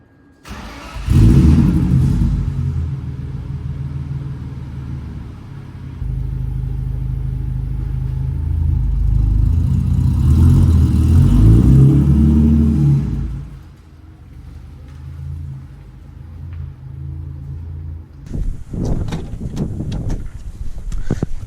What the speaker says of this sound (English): we're gonna go take the car for a ride, see how it sounds, and do a couple of pulls